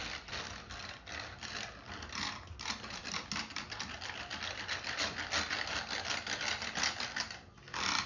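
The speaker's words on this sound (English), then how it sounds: "So I'm just going to whisk this up." Rapid scraping and clattering strokes of a whisk against a ridged container, whisking beef jerky marinade, a fast continuous rhythm with brief pauses, close up.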